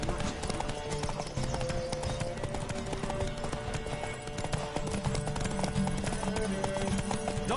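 Horse hooves galloping rapidly in a Witcher 3: Wild Hunt race, a fast clattering rhythm with background game music and occasional shouts.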